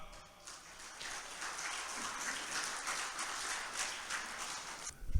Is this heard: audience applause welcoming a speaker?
yes